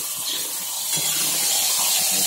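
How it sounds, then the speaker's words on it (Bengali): A fish head frying in hot oil gives a continuous close hiss and sizzle, steady and moderately loud throughout, with no talk. "এই তেলের মধ্যে এবার এই মাছের মাথাটা দিয়ে দেবো, দিয়ে মাছের মাথাটা ওর সাথেই ভাজবো।"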